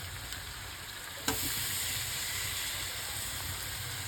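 Tomatoes fry in a pan of prawn head gravy with a steady close sizzle and hiss, and a brief clatter about a second in, with no talking.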